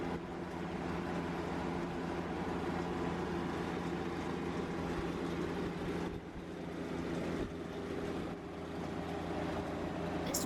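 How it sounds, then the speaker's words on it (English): A circa 1960s six-cylinder gas power unit drives all the equipment of a corn mill in East Tennessee, running as a continuous, loud, even mechanical drone with a deep rumble, briefly dipping twice before resuming. "we use this circa 1960s 6-cylinder gas-forward power unit"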